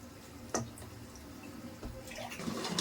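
Water trickles and drips with a few splashy stirs, fairly close and quiet, as grains are rinsed in a bowl; no talking.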